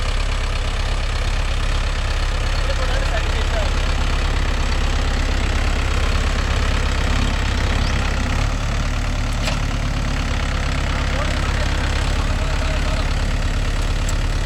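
A Mahindra 575 DI tractor engine idles in a field, giving a loud, steady, continuous rumble that holds at an even level throughout with no talking.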